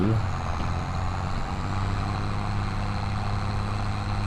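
A tractor engine idles in a farming video game, giving a steady low droning hum with a constant tonal note. The sound is continuous and even, with no talking over it.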